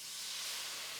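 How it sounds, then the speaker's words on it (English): Chicken stock poured into a hot skillet to deglaze it gives a steady, broadband steam hiss that holds evenly and moderately loud through the whole short clip, with no talk. "I'm adding 1 cup of chicken stock to deglaze the skillet."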